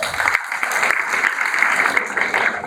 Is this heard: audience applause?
yes